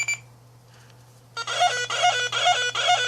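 A short electronic beeping pattern from a Beetleborgs toy begins after a brief pause, a repeating warbling emergency-call tone cycling several times like a toy siren or alert.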